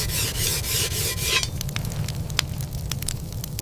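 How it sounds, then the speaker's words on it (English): A stone rasps along a steel weapon blade in firelit surroundings, a few rough scraping strokes at first that give way to quieter scattered scratches and small ticks. "The sound of stone on steel."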